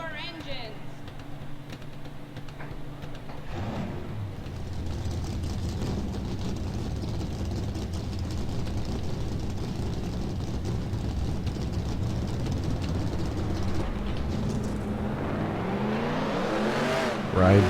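Race car engines in NASCAR Racing 2003 fire up and drone steadily, a dense engine roar building and rising in pitch toward the end as the cars pull away, with a voice talking over it.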